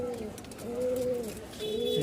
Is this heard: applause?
no